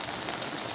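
Steady rain hisses across the Ciamis countryside in Indonesia, an even, continuous wash of noise with no pauses.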